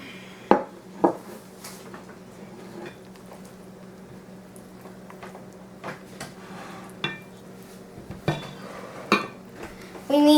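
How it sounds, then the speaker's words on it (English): Walnuts go into banana muffin batter with clinks of a spoon against a bowl, scattered sharp taps over a faint steady background hum. "I'm going to add the nuts to the mixture"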